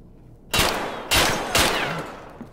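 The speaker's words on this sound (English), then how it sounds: "Shots at me." Three loud, sharp gunshots from Escape From Tarkov ring out in quick succession, each with a short echoing tail, close and dominant over a quiet background.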